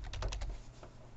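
Quick burst of keystrokes on a computer keyboard, about five close, soft taps in rapid succession followed by a couple of fainter ones, with no talking.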